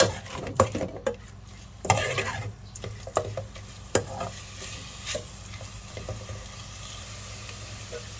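Curry paste for a chicken curry with pickled bamboo shoots is stir-fried in oil in a pan, giving a continuous sizzle broken by sharp scraping and clanking strokes of a utensil at irregular intervals.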